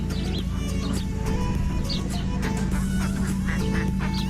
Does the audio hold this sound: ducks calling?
yes